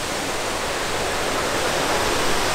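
Trevi Fountain in Rome sends out a steady, loud wash of splashing and rushing water that fills the whole moment, with no voices over it.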